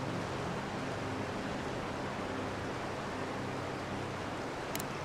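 A steady, broadband rush of falling water fills the scene near a cave in the fantasy game Avowed, a constant even roar with no breaks, voices or other events.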